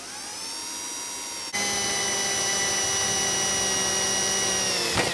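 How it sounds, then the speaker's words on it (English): A power drill bores out metal on a BMW X1, its motor whining steadily up close and climbing to a louder, higher pitch partway through as the bit cuts, with no talking. "I'm gonna drill these out"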